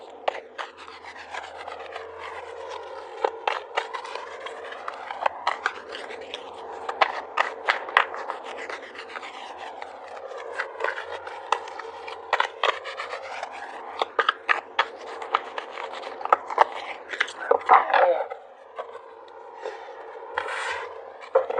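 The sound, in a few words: tarot cards being shuffled and pulled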